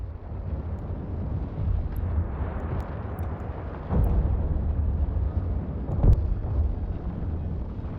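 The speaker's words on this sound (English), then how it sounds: "Fire at will, Captain. Make sure to use both of your guns." Spaceship guns fire in the video game EVE Online as a continuous heavy rumble, with two sharper, louder impacts standing out partway through, and no speech.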